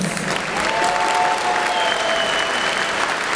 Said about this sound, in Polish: Jeszcze raz gorące brawa dla obu wojowników.